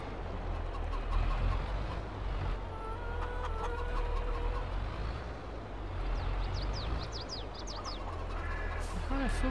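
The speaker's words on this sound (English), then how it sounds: "Chickens." Chickens in Farming Simulator 22 cluck and chirp in short scattered bursts over a dense, steady farm background rumble, moderately close, with occasional higher bird calls and no speech.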